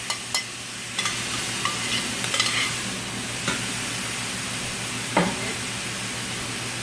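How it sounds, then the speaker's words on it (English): Steak and beef frying in a pan for a Philly cheesesteak bowl, a steady close sizzle with a few scraping stirs of the utensil against the pan. "I'm going to add the steak back in,"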